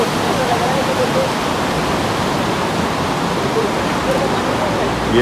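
The Swat River rushes through the Kalam area in a steady, dense roar of fast-flowing water, loud and close, unbroken from start to finish with no voices over it.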